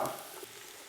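Mushrooms sauté in a pan for mushroom fried rice, a quiet, steady sizzle with a brief stirring stir-up at the start and no voices.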